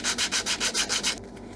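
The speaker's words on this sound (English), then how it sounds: "I'm just going to use the sandpaper to do that." Sandpaper is rubbed by hand over a wooden handsaw holder to chamfer its edges, seven quick, even back-and-forth strokes, close and distinct, before a quieter pause.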